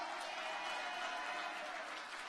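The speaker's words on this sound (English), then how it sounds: "Give her a clap for that" Scattered audience clapping at a political community meeting in Barbados, faint and distant but steady for a couple of seconds.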